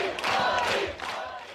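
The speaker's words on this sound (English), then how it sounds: "a rowdy crowd cheered as Oliver Strumpfel tried to break his own world record by carrying 31 mugs filled with beer all at one time" A rowdy crowd cheers and shouts at a fair in Abensberg, southeastern Germany, during a world-record attempt at carrying 31 beer-filled mugs, a brief dense burst of many voices.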